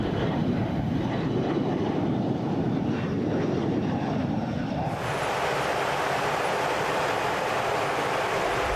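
Engines of a Boeing KC-135R tanker aircraft, re-engined with bigger, higher-thrust engines, roar in a loud, steady broadband rumble that holds throughout and shifts tone partway.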